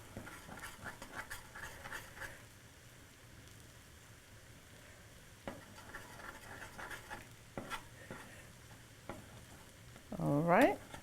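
An egg scrambles and fries in a stir-fry pan, giving a soft, steady sizzle with light stirring and scraping, and a brief louder burst near the end.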